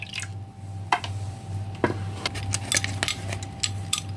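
Stirring a cocoa and white chocolate wine mixture after water is poured in: soft, irregular wet clicks and scrapes of the utensil against the bowl, close by, over a steady low hum.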